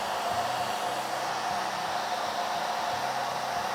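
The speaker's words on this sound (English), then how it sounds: "I can use a hair dryer" A hair dryer blows steadily on a watercolor painting, a close, even whooshing roar with no breaks and no voices.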